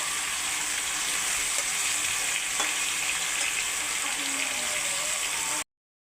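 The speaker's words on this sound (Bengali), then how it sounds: "বন্ধুরা, ডাঁটা আলু এইভাবে আমি ভেজে নিচ্ছি, ভালো করে কষিয়ে নিচ্ছি ভালো করে এইভাবে।" Drumstick stems and potato pieces fry in a pan with a steady, close sizzle and crackle, a faint scrape of stirring now and then, before the sound cuts off abruptly near the end.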